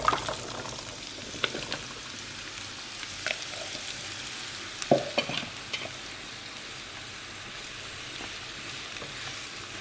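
Courgettes and garlic frying in hot olive oil, a soft steady sizzle with occasional stirring scrapes and light clinks of a utensil against the pan, no voices.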